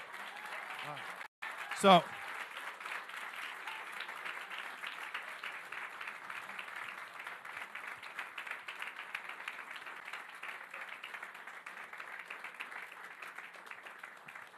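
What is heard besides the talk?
audience applause at chess exhibition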